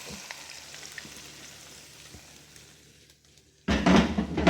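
Quiet crackling of oil gives way to a sudden loud hissing sizzle as tadka spices hit hot oil for dal, continuing strongly to the end.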